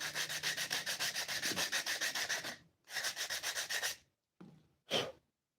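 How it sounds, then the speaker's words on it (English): A wooden box being sanded by hand with 80 grit sandpaper, rapid rhythmic back-and-forth rasping strokes in two long bursts followed by a couple of short passes, close up with no talking. "This stuff is pretty tough, so we're not taking a whole lot of material off with this 80 grit"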